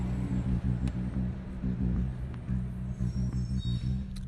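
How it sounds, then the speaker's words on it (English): A garbage truck drives past on a street, its engine a steady low diesel rumble with rhythmic pulsing and a few clanks, loud and close throughout. "And as that garbage truck passes me,"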